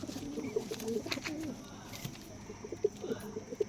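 Pigeons kept for sale at a home loft give soft cooing calls, several low bubbling coos spread through the moment over a faint background murmur.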